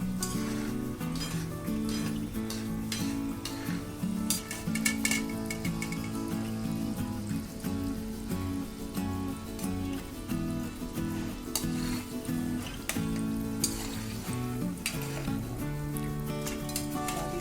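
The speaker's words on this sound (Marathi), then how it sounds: "अशा बारीक गॅसवर हलवत ब्राऊन कलर तळून" Shankarpali sweets deep-frying in oil on a low flame, a continuous soft sizzle with occasional stirring, heard beneath steady background music.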